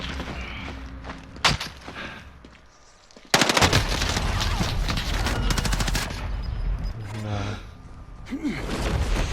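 Bursts of rapid automatic gunfire in Warzone, a sharp crack early on and then sustained loud firing that stays dense for several seconds, with a voice briefly heard.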